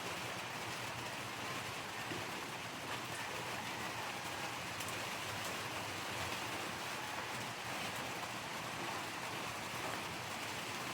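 Steady, dense rain pouring down without a break, a broad hiss of drops striking surfaces, with no voices.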